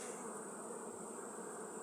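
Carniolan honey bees hum steadily at an open hive while frames are handled, a dense, even drone that stays constant and fairly faint throughout.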